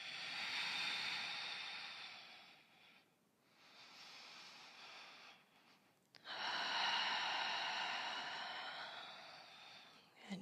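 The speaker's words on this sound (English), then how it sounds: "Staying with our deep Ujjayi breath." Deep Ujjayi breathing during a yoga flow: long, steady hissing breaths drawn close to the ear, with a short pause between breaths and a strong, sustained breath near the end.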